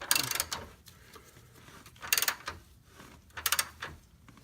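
A ratchet wrench snugs a lower control arm bushing bolt on a Lexus IS, giving three short bursts of close, crisp clicking separated by quiet pauses.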